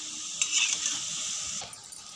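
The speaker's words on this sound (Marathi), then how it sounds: "आता आपले मंचुरियन फ्राय झाले" Veg cabbage manchurian balls deep-fry in oil, a steady close hiss of sizzling with a few faint clicks near the end.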